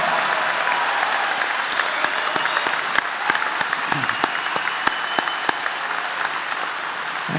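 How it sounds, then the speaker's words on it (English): Rousing applause for 406 graduates at the SUNY Upstate Medical University 2025 commencement, a large crowd clapping steadily and loudly throughout, with scattered sharper individual claps standing out in the mix. "let's celebrate all of our 406 amazing graduates. Let's give them a rousing applause."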